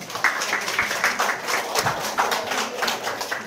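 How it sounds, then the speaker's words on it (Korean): Audience applause at a Korean student-athlete career and college-admission talk concert, welcoming a high school baseball coach to the stage: dense, steady clapping from a crowd that continues evenly throughout, with no talking over it. "박수 부탁드립니다"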